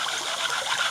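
Water pouring steadily into a bowl for bread dough, a continuous close trickling stream with no talk over it.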